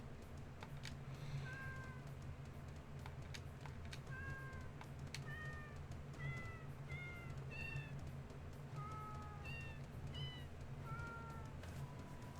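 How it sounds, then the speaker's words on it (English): Mike the cat meows in Deltarune, a long run of short, bright mews repeated every second or so over a steady low game-music bed, faint and never talked over. "Mike is definitely a cat."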